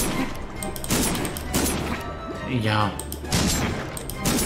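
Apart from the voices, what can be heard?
cannon gunfire in Pumpkin Jack video game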